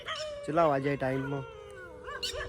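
Dogs howl and whimper at night, long rising and wavering cries that overlap near a person speaking.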